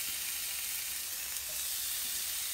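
Oxtails hit a hot pot with a little butter and sizzle in a steady, bright, continuous hiss, close and unbroken, with no talk.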